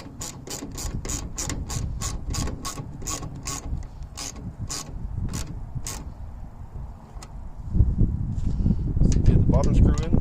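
A ratchet clicks steadily in quick rapid bursts as two screws are driven back into a car taillight, followed by heavier handling and rustling near the end.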